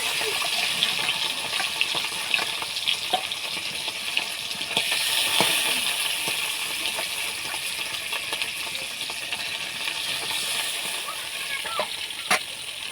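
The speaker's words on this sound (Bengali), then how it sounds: "এবার মাছগুলো দিয়ে দেবো ভাজার জন্য। এক এক করে মাছগুলো ছাড়ছি।" Fish fry in hot oil in a wok (kadai), giving a steady, close crackling sizzle with occasional sharp pops and utensil clinks, while a person talks over the cooking.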